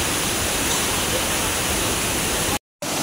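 A waterfall where people jump in gives off a dense, constant hiss of falling water, close and loud, cut by a brief dropout near the end.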